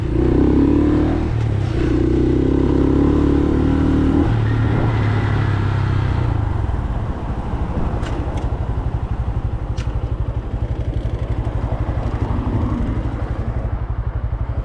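A Honda Grom motorcycle revs hard while doing wheelies, loud and close, with a strained high engine note for several seconds that then drops into a rougher, lower rumble with clattering mechanical noise throughout.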